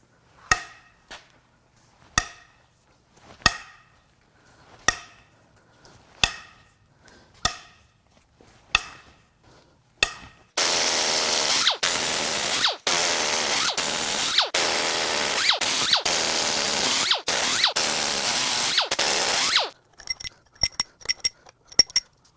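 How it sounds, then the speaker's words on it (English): A ratchet cracking loose the cylinder head bolts on a 2019 GMC Sierra 5.3L L84 V8, a series of sharp spaced clicks, then a long loud continuous ratcheting burst, and finally a few quick clicks, all close and without talk. "Now it's time to crack the head bolts loose on the passenger side or the right-hand bank."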